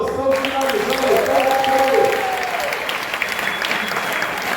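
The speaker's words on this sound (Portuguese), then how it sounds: "E o salve de palmas" Audience applause closing an aerospace engineering student talk show, dense clapping with a voice talking over it at first, then the clapping carries on alone and eases off slightly.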